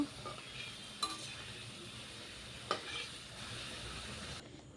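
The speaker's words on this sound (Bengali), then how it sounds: "আমি আলুটা আগে ভেজে তুলে নেব।" Potatoes fry in a pan, giving a faint, steady sizzle at close range, broken by a couple of sharp clinks from a utensil against the pan.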